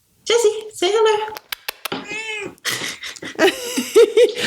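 A pet cat meows several times during a podcast recording, short tonal calls mixed with people talking and imitating meows nearby.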